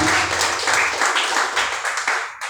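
Congregation applause at a Sunday worship service, a dense burst of many hands clapping together that thins out toward the end.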